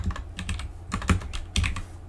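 Someone types on a computer keyboard in quick, uneven bursts of close, crisp key clicks, with a few heavier strikes among the lighter taps and no speech.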